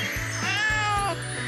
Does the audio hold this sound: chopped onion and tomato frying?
no